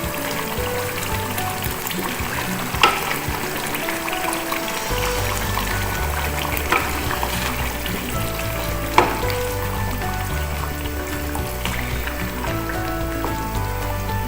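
Sizzling and frying of achari chicken in a handi after yogurt is added, with steady crackling and spattering and a few stirring scrapes against the pot. Loud, close and continuous, with no talking.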